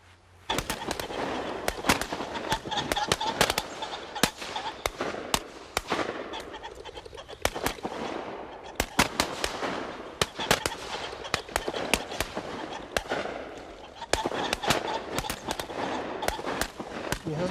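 Rapid, irregular cracks of gunfire from someone out shooting, dense and continuous over a steady outdoor background, with bangs clustering and scattering throughout.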